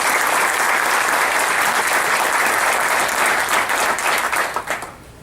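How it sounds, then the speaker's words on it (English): A large audience gives a steady round of applause at a golf association presidents council meeting, dense clapping at full strength for about four seconds before tapering off quickly at the end. "Please join me in a round of applause."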